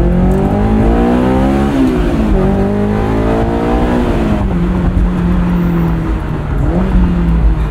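A 2001 Honda S2000 fitted with a UK exhaust modification drones loudly from inside the cabin, its engine note climbing and falling through several rev changes and gear shifts, close and continuous with no talk.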